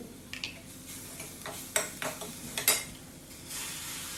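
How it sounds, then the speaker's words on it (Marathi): Onion fries with a little salt in a home kitchen pan, a soft, steady sizzle broken by a few sharp clinks of a spoon stirring against the pan. "तर कांदा पटकन भाजण्यासाठी यामध्ये थोडंसं मीठ टाकून घेतलं"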